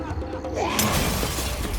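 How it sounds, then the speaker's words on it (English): Glass doors of a clinic bursting apart, a sudden crash of shattering glass at about one second that rings into a scattered tinkle, heard over a low rumbling bed with a narrating voice beforehand. "The glass doors of the clinic explode out"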